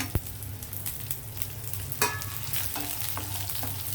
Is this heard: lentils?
yes